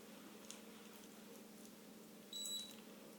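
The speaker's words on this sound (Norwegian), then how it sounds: "Nå piper det litt fortere, det betyr at det nærmer seg slutten av behandlingen" A single short electronic beep sounds clearly once over a quiet, steady hum from a running galvanic spa treatment device.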